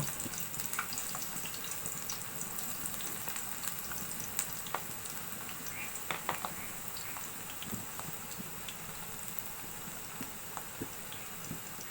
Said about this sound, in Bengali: এখন আমি এক পিস এক পিস করে মাংস এইভাবে নিয়ে ছেড়ে দিব তেলে